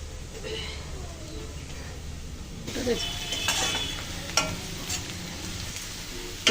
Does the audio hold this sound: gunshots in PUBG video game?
no